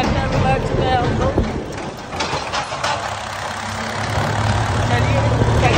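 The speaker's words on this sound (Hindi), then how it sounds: "जल्दी पहुंचने के लिए ट्रैक्टर में बैठ चुके हैं हम लोग।" A tractor engine rumbles steadily while riding on the road, a constant low drone that sits under people talking nearby.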